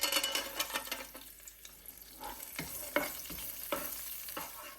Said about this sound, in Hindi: अब किशमिश को भी फ्राई कर लेते हैं।